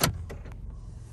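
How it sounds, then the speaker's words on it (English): Power door locks on a Nissan Rogue actuate in quick succession, a sharp mechanical clack followed by a couple of softer clicks, close and fairly quiet inside the cabin with no talk. "Unlock and then lock."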